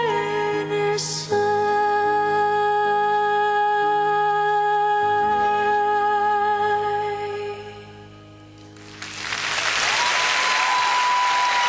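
Opera music with sustained sung and orchestral tones fades out, and after a short lull a crowd bursts into loud, broad applause that swells and holds through the end.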